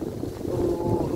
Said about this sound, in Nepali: यस्तो हावा चल्छ यार, चिसो हावा, दामी हावा चलिरहेको छ गाइस